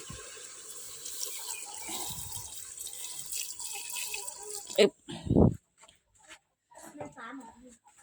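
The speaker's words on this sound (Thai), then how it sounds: "ขอเติมน้ำลงไปจักน้อยก่อนพี่น้อง" Water is poured into a pot of fish curry with coconut milk and glass noodles, a running trickle under ongoing talk, followed by a few short louder splashes near the end.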